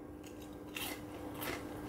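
Bites into a crispy fried brick pastry filled with meat and cheese produce two short, crisp crunches close to the mic, separated by a brief pause, over a quiet background.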